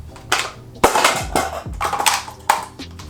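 The bolt of a home-defense shotgun slams shut several times, giving a quick series of sharp metallic clacks and rattles, close and fairly loud with short gaps between them.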